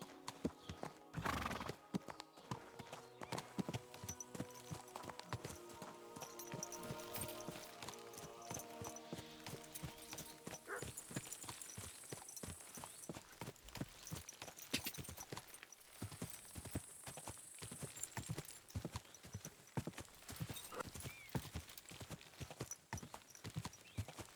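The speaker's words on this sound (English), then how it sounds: "Don't insult my horse." Horse hooves clip-clop in a steady walking rhythm in the medieval video game Kingdom Come: Deliverance II, close and distinct, with a loud whinny near the start and light ambient sounds between steps.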